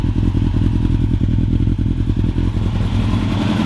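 A Yamaha R1 project bike's engine runs loud and close, a steady dense rumble with small rises and dips in revs and a faint mechanical clatter throughout, no voices.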